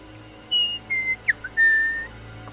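A handheld bird whistle imitates a bird call at night in a tabletop game session, giving several short clear whistled chirps and a longer held note in an uneven rhythm, heard alone.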